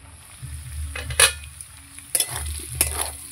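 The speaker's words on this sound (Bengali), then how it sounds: "ভালো করে আমি পেঁয়াজ গাঠি আলু সব ভেজে নেব লাল লাল করে" Onion, taro and potatoes fry in a pan for a Bengali prawn curry, with a steady close sizzle and a few sharp clinks of a spoon stirring against the pan, and no talking.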